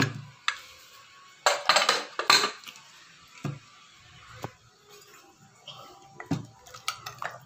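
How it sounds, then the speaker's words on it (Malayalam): Metal clanks and clinks as a pressure cooker of beef curry is opened, with several sharp knocks of the lid and utensils, quiet pauses between them. "കുക്കർ ഒന്ന് ഓപ്പൺ ചെയ്ത് നോക്കാം ഇനി"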